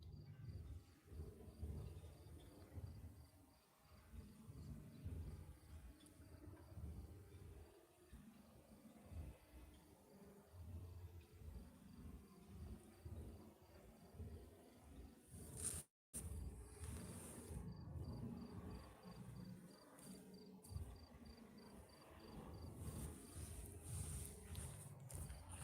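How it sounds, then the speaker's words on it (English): Faint, steady high-pitched cricket chirping, a pulsing trill over low rumbling background noise, briefly cut off once midway. "I was just thinking to myself there, I can hear crickets"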